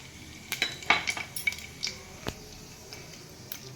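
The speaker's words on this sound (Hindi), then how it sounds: "एबे जीरा सोरिष पकई देबा।" Cumin and mustard seeds temper in a pan of hot refined oil, giving a soft sizzle broken by a few sharp clinks and scrapes of a spoon against the pan.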